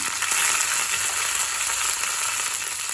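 Urad dal, dried red chili and curry leaves sizzle in hot oil for a sambar tempering, a loud, steady, even frying hiss that continues unbroken.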